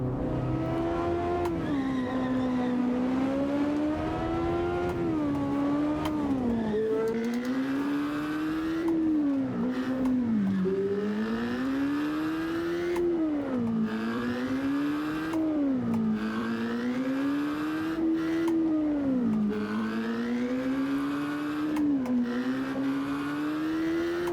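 A 2004 Isuzu D-Max engine in the Assetto Corsa racing game, driven on Doi Suthep mountain road, its pitch rising and falling repeatedly through gear changes. The drone is steady, close and loud.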